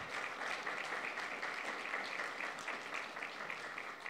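A church congregation at Saint Mark in Mankato applauds steadily and densely throughout, a sustained wash of many hands clapping with no break.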